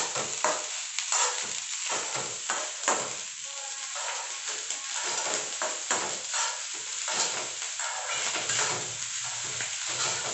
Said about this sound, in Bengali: এই যে এটা মিক্স করে নিচ্ছি আমি একটু ভালো করে